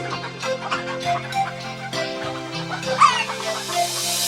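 A big fat hen clucks in short repeated bursts over a bright, tuneful nursery-rhyme backing, the clucks near and clear above the music.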